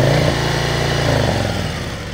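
A motorcycle engine given far too much gas, roaring loud and close at high revs, then the pitch sags as the engine is cut back.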